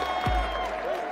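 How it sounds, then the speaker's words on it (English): A crowd cheers and applauds at a Brawlhalla esports tournament at a world championship LAN event, a dense steady roar filling the hall, close and loud, with a tone running through it. "Oh my, the crowd's popping off!"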